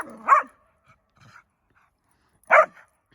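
Dogs bark during off-leash play at a boarding facility, two sharp barks about two seconds apart, moderately close, with a faint softer yip between them and quiet in the gaps.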